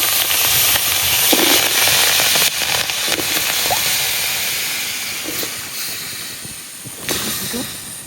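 Raw mango pieces fry in a hot wok for a sweet-sour pickle, a loud, steady hiss of steam and oil close by with a few stirring knocks, easing slightly toward the end.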